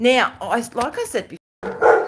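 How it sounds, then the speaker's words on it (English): A pet dog barks in a home during a live diamond art painting session, short yips mixed with someone talking over them in the foreground. "sorry about the dog, guys."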